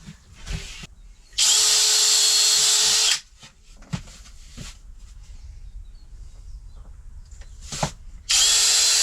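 Cordless power drill driving screws while a camper is fitted out: two loud sustained whirring bursts, one of about two seconds and one near the end, separated by quieter handling knocks and clatter.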